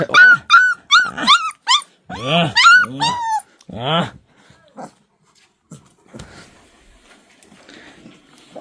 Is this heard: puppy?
yes